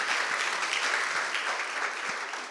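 Audience applause at a council meeting, dense steady clapping that fades slightly toward the end, heard alone without talking.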